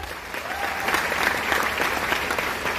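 Steady applause from a large audience at a direct-selling company event, many hands clapping densely and evenly throughout, fairly loud with a faint crowd murmur underneath.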